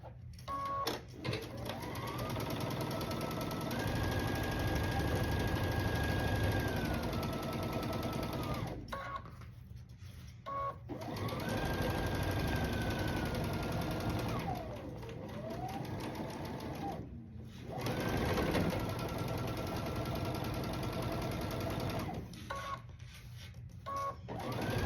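A sewing machine stitches a seam on a quilt block in long steady runs of several seconds each, stopping briefly between passes, loud and close with no talk.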